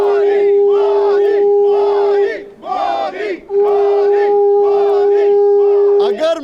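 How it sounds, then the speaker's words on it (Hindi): A large crowd of Indian diaspora at the UN chants "Modi, Modi" in rhythmic, repeated phrases on Yoga Day 2023, loud and continuous with a short dip midway, a steady tone droning underneath. "यहां पर तालियां हो रही हैं, मोदी जी के नारे लग रहे"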